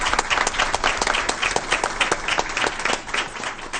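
Dense, lively applause from the audience at a school board meeting, greeting new staff promotions on the personnel agenda, many hands clapping close by in a steady roar that ripples and holds for several seconds.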